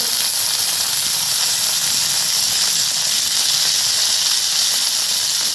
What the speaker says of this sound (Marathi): त्याच तेलामध्ये आपल्याला हिरवी मिरची भाजून घ्यायची